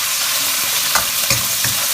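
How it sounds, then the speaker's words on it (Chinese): Shredded pork stir-fried fast over medium-high heat in plenty of hot oil in a wok, a steady close sizzle broken by a few sharp spatula scrapes and tosses, with no voices. "保持中大火快速的翻炒，把肉丝炒散。"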